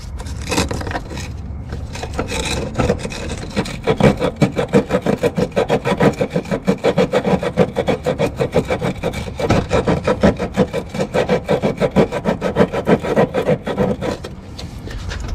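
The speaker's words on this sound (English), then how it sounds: "I'm going to take a little sandpaper and just scuff up the coating that's on this hard line" Sandpaper scuffs the coating on a car's hard brake line, likely on a Honda CRX, in a fast steady back-and-forth rasp that sounds close and loud and continues for about fifteen seconds.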